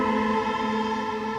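Layered string sample patches, Crying Ivory and Tears of Tomorrow, panned left and right together, sustaining a rich steady chord with a smooth, even bowed tone and no attacks or pauses.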